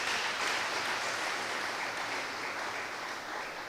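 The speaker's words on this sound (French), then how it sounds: "applaudissez le Seigneur" A crowd claps continuously and fairly loudly, a dense wash of applause that fades slightly toward the end.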